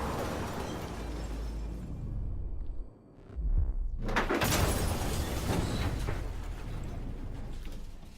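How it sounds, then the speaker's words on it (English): In the video game Detroit: Become Human, a reverse womp effect dips into a brief hush, then swells and bursts outward into a loud, rumbling blast that keeps roaring with low noise afterward. "I love the sound of a reverse womp, like it's getting sucked into your ear and then it just explodes outward"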